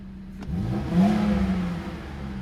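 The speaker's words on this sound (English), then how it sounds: "Oh, it has pops and bangs too" A sharp exhaust pop cracks over an idling BMW E46 convertible engine, followed by a single strong rev that swells and fades, loud and close.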